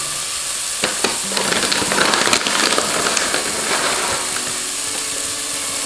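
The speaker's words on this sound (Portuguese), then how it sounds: "Vamos deixar fritar um pouquinho." Rice fries in a pan with sautéed garlic and leek, a steady nearby sizzle broken by scraping and clicking stirring sounds, louder in the middle and easing toward the end.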